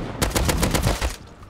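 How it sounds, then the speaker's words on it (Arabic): Explosive ammunition fires in the survival video game Rust, a rapid automatic burst of about eight sharp, loud shots in quick rhythm before trailing off. "250 طلقة اكسبلوسيف ومو في الفاضي."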